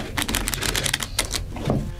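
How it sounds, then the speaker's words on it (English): A deck of playing cards being shuffled at a tabletop game session, a rapid run of crisp riffling flutters and snaps, close and loud, with no talking. "I'm going to shuffle and then I'll deal."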